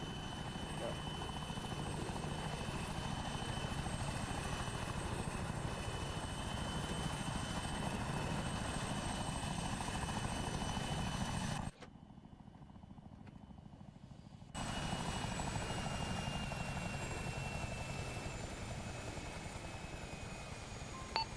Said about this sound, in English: I just shut down your helo, that's right.